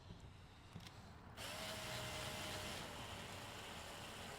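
A power drill bores into a car part in a workshop for a forged Hyundai i20N build, the whine starting abruptly after a quiet moment and then running steady and close.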